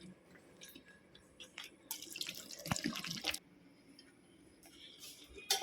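Water is poured over lemons to wash them: a brief, close splashing pour in the middle, framed by quiet drips and small taps.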